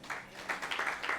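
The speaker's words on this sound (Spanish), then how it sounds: "Denle un fuerte aplauso" Brief, fairly faint clapping from a church congregation, a scattered patter of hands lasting about a second.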